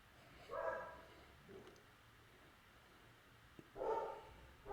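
Dogs bark in short bursts with a long quiet gap between them, fairly faint and somewhat distant, the last barks louder.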